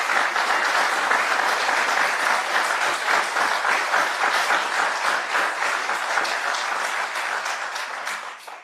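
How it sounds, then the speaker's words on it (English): An audience at a county State of the County speech applauds steadily, dense clapping holding at the same level for several seconds before it begins to thin out. "ask for a round of applause for our health department"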